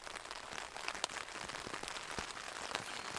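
Steady, dense patter of rain drumming on a tent-like surface, with occasional louder drops standing out; no voices.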